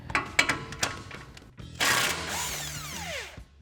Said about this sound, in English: we can grab our 21 millimeter socket to disconnect our sway bar end link